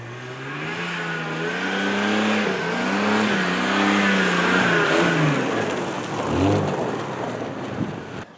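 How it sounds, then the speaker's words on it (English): A noisy power steering pump on a Jeep Cherokee whines loudly and close, its pitch wavering up and down as the wheel is turned, over a steady engine hum. "That power steering pump is pretty noisy, isn't it?"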